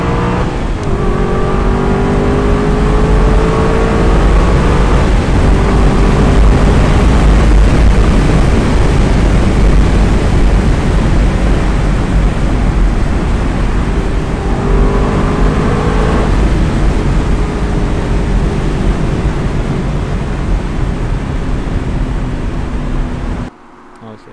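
Aston Martin V8 Vantage Roadster 4.7 manual on the move, its V8 roaring loudly and continuously with rising revs and gear changes, heavy road and wind noise around it, cutting off abruptly at the end.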